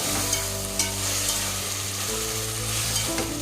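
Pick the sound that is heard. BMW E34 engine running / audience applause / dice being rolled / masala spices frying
masala spices frying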